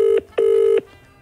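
An outgoing call on a mobile phone rings through to the other end, giving steady electronic tone bursts, a short one and then a longer one, loud and close, with no voices over them.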